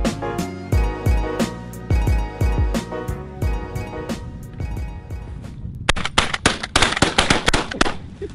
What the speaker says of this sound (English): We both shot the same time.